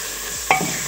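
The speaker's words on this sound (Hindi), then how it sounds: "हम इसको थोड़ा सा फ्राई करेंगे।" Spices and chicken frying in a pan with a steady, close sizzle, a brief louder hiss flaring up partway through as the mix is stirred.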